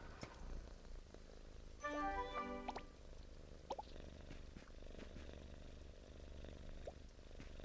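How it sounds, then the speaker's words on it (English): Purring from animals in the Starsand Island life-sim game, a low continuous rumble running throughout, with a brief louder chirpy burst and a few small clicks and drips. "There are some very loud purrs coming from that cache."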